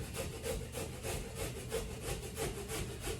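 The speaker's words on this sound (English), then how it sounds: "I'm going to grate this carrot up." A carrot rasped on a Pampered Chef hand grater, steady rhythmic scraping strokes about three per second, close and fairly loud, with no talking.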